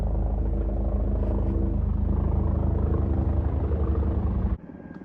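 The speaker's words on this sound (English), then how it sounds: "Oh, helicopter." A steady, loud low rumble of a helicopter passing overhead, droning continuously before cutting off abruptly near the end.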